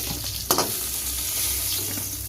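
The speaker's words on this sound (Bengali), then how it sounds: "ভেজে নেব। পটলগুলো ভাজা হয়ে গেছে" A continuous hiss of pointed gourd frying in oil, close and even, with a brief clatter near the start.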